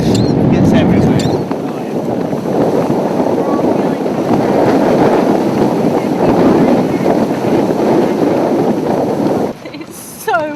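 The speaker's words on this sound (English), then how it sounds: "It's so windy outside." Strong wind roars across the Skeleton Coast, driving sand in a loud, steady buffeting rush that batters the microphone almost without pause before easing near the end.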